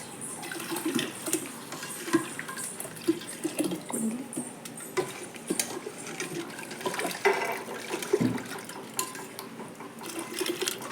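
Cold water is poured into a neem flower mixture for the Ugadi festival, trickling and splashing in a kitchen amid scattered clinks and knocks of utensils.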